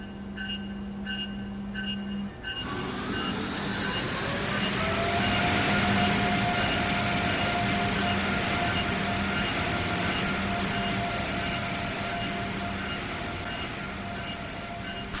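A train on the Northeast Corridor route between Boston and Providence in Train Sim World runs past, a steady rumbling roar with a rising engine drone that swells and holds loudly for the whole stretch, heard from outside the train.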